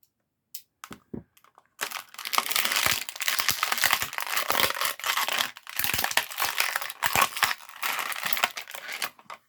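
Tape peeled and pulled off the small laser blasters of a vintage Star Wars action figure, with a few sharp crackles first and then a long run of close, dense crinkling and ripping, with brief pauses between pulls.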